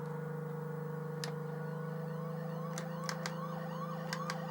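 Electronic police siren in the Amiga driving game F40 Pursuit Simulator, a steady wail layered over a droning engine tone, joined by a few sharp clicks near the end, with no voices.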